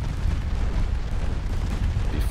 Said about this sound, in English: I think that torpedo is gonna hit. It did.